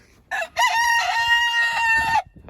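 A rooster crows once inside a chicken coop after a winter storm, a loud, clear, drawn-out cock-a-doodle-doo rising and holding before cutting off, with only faint background noise around it.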